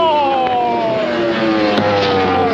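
A loud, sustained engine roar with a rising and falling pitch, as of a motorcycle revving past nearby.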